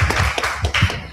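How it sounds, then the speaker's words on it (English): A short burst of clapping, rapid irregular hand claps from a small group, close and fairly loud, without voices. "Please, a round of applause to Mr. Nasser."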